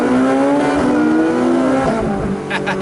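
A Ferrari turbo engine revs hard and loud up close, its pitch climbing and falling through quick blips before a burst of crackling pops near the end.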